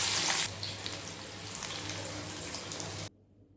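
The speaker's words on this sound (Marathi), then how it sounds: "कांदा छान क्रिस्पी आणि सोनेरी रंग येईपर्यंत परतून घ्यायचा आहे आपल्याला कांदा तळला जातोय" Onion frying in hot oil in a kadhai, a steady dense sizzle and crackle up close that cuts off abruptly near the end.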